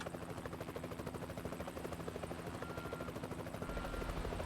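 Helicopter rotor chopping steadily overhead in the truck-driving game Euro Truck Simulator 2, a loud continuous rhythmic thudding over engine drone that swells slightly toward the end, with no talk.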